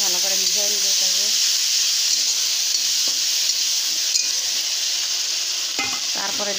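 Ground onion paste sizzles and fries in a pan with a steady, loud hiss while a spoon stirs it, producing occasional scraping clinks; a voice talks briefly at the start and end.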